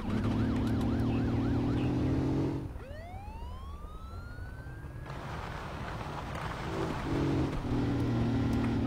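Police car siren in the Russian Car Driver video game, a rising wail that sweeps upward and holds alone as the engine drone drops away, then the car noise returns loud beneath it.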